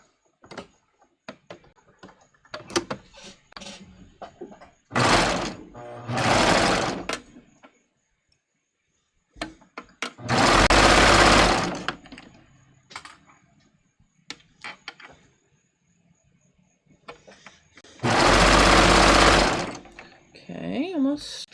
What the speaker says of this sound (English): I'm going to just be sewing my front armholes